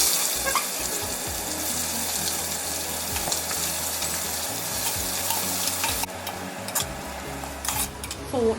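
Spices for bagara rice fry in a pan with a steady low sizzle and occasional stirring scrapes. A clink sounds near the end.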